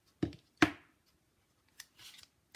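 Scissors snipping a stamped paper snowman cut-out, two sharp close snips followed by a few softer, quicker cuts and light paper rustling, with no talk.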